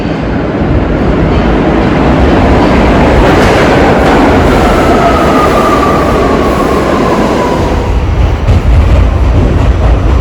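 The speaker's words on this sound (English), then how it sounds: "and I think here is my train." A New York subway train rolls into the station, a loud, steady rumble of wheels and cars filling the whole stretch, with a faint rising squeal of wheels on the rails partway through.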